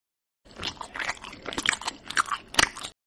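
Crunchy fried chicken being bitten and chewed up close, a dense run of crackling crunches for about two and a half seconds after a short silence.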